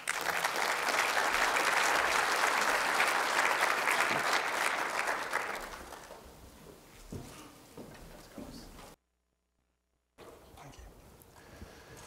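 Audience applause welcoming a speaker to the stage at a luncheon presentation of a big data forum, loud sustained clapping for about five seconds, then fading to scattered claps, a brief gap and quiet room noise.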